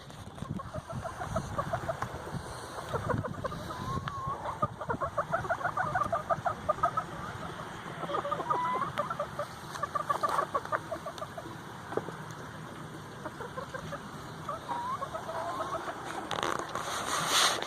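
Small quail, kept as a fast-growing meat bird, keep up soft, rapid clucking and chattering throughout, moderately close over a steady background hiss with occasional knocks.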